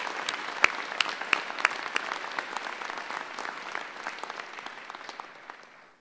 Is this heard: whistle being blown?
no